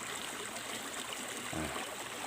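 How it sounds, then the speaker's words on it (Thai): Water flows along a rice paddy field channel in the rainy season, a steady low rushing trickle that is constant and soft, with a brief low thump partway through and no voices. "ก็มาดู น้ำไหลกันก่อนนะครับ"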